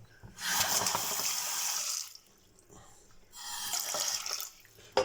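Kitchen tap water runs in two strong bursts separated by a short pause, refilling a dog's water bowl nearby.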